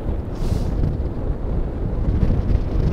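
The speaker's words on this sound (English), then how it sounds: "Oh wow, that is windy." Strong storm wind at Blackpool buffets the microphone in a continuous, gusting roar, loud and close, with no voices.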